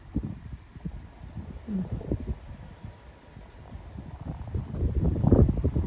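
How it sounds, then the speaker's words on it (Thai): Strong wind gusts buffet the microphone outdoors among flowering plants, producing irregular low rumbling bursts that swell louder toward the end, with no talk. "ลมแรง ลมแรงอ้าว"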